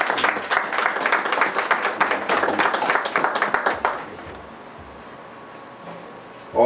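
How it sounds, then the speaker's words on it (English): Audience applause at a Shotokan karate gathering held at an Islamic center, a dense burst of clapping for about four seconds that then stops abruptly, leaving quiet room tone. "I want y'all all to give him a round of applause for all the small things he does"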